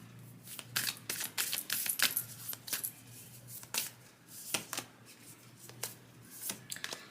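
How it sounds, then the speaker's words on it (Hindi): Tarot cards drawn and handled from a deck, producing soft, scattered flicks, taps and papery slides at close range, quiet and irregular with small gaps between them. "सो और कुछ कार्ड निकालते हुए जानने की कोशिश करते हैं।"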